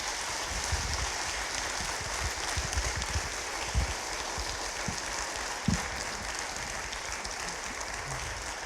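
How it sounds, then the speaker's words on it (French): An audience claps steadily and evenly for the full stretch, a soft, dense patter with a few sharper claps standing out and no voices over it. "On vous applaudit très très fort."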